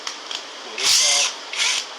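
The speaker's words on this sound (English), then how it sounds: "That's how you pull that tensioner pulley off." On a Honda J30A5 engine, a tensioner pulley is pulled off, making a few short mechanical clicks followed by two bursts of whirring, scraping spin, close and fairly loud.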